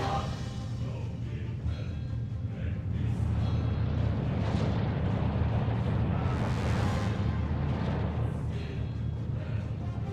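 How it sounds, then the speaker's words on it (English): Booming mortar explosions and battle noise from a Soviet divisions strategy game rumble on continuously, dense and loud, with low thuds swelling under a steady wash of combat sound. "He's relying heavily on these two mortars."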